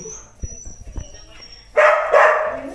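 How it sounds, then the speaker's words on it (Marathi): A dog lets out two loud, deep barks close by, one after the other, following a few quieter thumps and noises. "या कुत्र्याचा आवाज काय आहे एकदम दमदार आवाज आहे"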